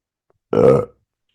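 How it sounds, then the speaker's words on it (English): A single short, deep burp, loud and close, in otherwise near silence. "I got a burp."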